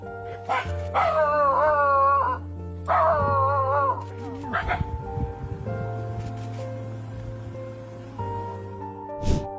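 A dog sleeping on a porch is attacked by a pregnant jaguar, letting out a series of loud, close yelps and whimpering cries, followed by fainter scuffling.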